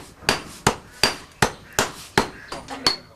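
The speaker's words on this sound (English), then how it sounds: "These ingots are then flattened and bended by hammering to form the shape of a ball." Bell metal ingots being flattened by hand hammering, eight sharp metallic strikes in a steady, slightly uneven rhythm, each ringing briefly before the next blow lands, close and fairly loud with no talk.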